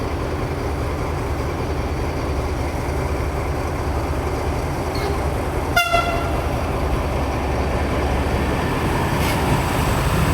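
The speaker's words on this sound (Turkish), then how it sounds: "Şu an tren geliyor." A train rumbles past steadily at Selçuk station, Turkey, with one short, sharp horn blast partway through and a fainter horn later.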